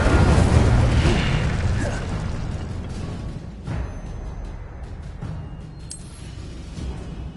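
A fire spell cast again and again in Hogwarts Legacy on PS5: a dense, roaring burst of flame that opens loud and close, then settles into a steady crackling rush, with a few sharper pops along the way.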